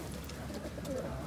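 Pigeons coo softly nearby at an outdoor animal market in Łomża, Poland, a brief low burbling call over a quiet background.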